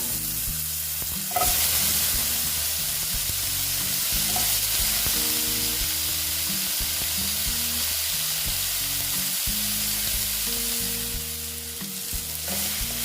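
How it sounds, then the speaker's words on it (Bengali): Pieces of sweet pumpkin frying in a pan for a fish and vegetable sour curry, with a continuous loud sizzle and bubbling and occasional stirring scrapes throughout. "দেখো মিষ্টি কুমড়োটা ভেজে নিচ্ছি"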